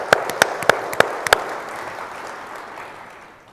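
Keynote audience at a JD Edwards conference event breaks into applause, starting with a few sharp, loud individual claps, then settling into a softer, fading patter of clapping.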